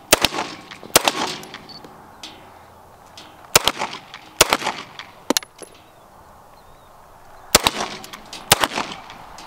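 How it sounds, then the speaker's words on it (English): Gunshots ring out at a shooting range in sharp, loud, isolated cracks and a few quick pairs, separated by pauses of quieter background noise. "Just so you guys can see an actual handgun, this is the Glock 19."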